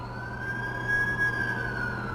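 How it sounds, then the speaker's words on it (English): Ambulance siren in a Spider-Man video game, a sustained wailing tone sweeping gently up and down over a low engine drone, fairly close and loud, no talking. "That's the ambulance I called."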